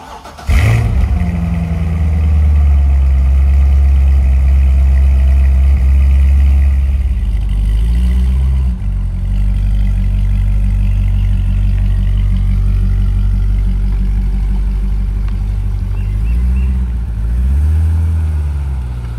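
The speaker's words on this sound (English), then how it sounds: "let's go ahead and get a cold start of the C6. Yes, it's stock. It's not super loud," A stock C6 Corvette Z06 engine fires up from cold with a sharp burst, then settles into a loud, steady, deep idle that rises briefly in revs twice before evening out again, heard up close with no talking.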